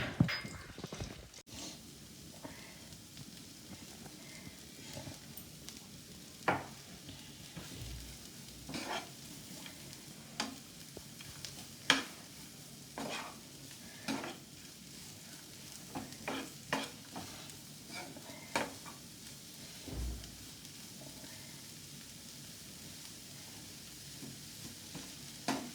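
Sliced garlic in a hot pan for egg fried rice gives a faint, soft sizzle beneath scattered scrapes and clinks of stirring over a long stretch.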